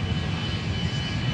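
A steady, low airliner engine roar from the game Airline Commander, heard close and loud for a short moment with no speech.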